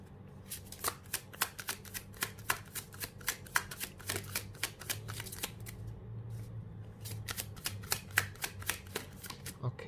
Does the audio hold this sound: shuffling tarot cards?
yes